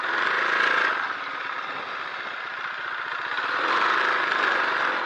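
A 49cc Chinese midsize stand-up pocket bike engine running, a steady buzzing single-cylinder drone that swells at the start and again near the end, close and alone with no talk.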